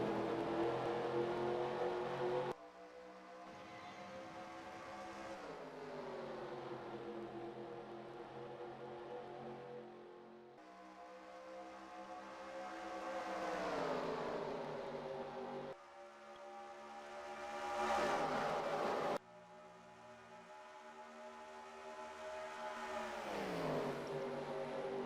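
Race cars in a racing video game at Charlotte, their engines revving up and shifting through gears in repeated rising whines as the pack accelerates off the green flag, loud and continuous with no talking.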